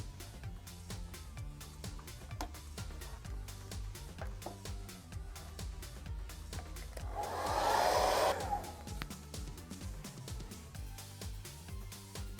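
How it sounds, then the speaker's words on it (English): A hair dryer roars steadily in the middle of the clip, melting glue off a connector in a Behringer NX1000D amplifier, rising over a constant background of music. "It can be easily melted away with a normal hairdryer."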